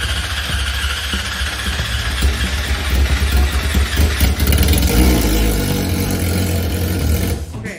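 A Yamaha R6 sport motorcycle under repair in a workshop, its engine running loud and steady with a rough, buzzy idle throughout, then cutting off at the end.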